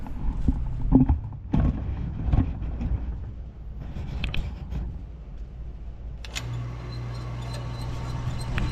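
A reciprocating saw cuts the coolant riser pipe on a Ram 6.7 Cummins engine. A few clanks and knocks come first, then the saw starts and runs as a steady, close buzzing drone to the end.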